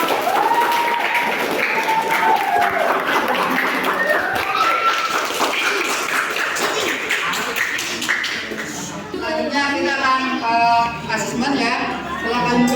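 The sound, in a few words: class applause for a group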